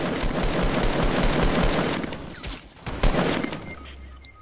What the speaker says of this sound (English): Keep shooting, I'm gonna snipe them.